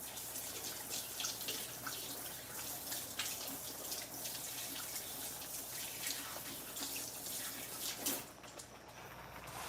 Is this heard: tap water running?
yes